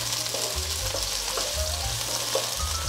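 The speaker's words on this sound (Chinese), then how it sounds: "锅内放入油，放入红喜菇，先把红喜菇炒香。" Red shimeji mushrooms stir-frying in hot oil in a wok, a steady close sizzle with intermittent scraping and tossing of the spatula, no voices.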